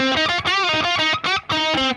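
Heavily distorted electric guitar chords ring out loud and sustained, with short breaks between strummed phrases.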